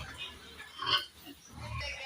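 Pigs eating durian fruit grunt and snuffle at close range, with soft chewing and rooting noises rising and falling over a low outdoor background.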